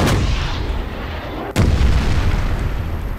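Cannon blasts from a gun in the shooter game Wolfenstein: two heavy booming shots, the first at the start and a sharper one mid-way, each trailing into a loud rumbling low-end decay with no talk.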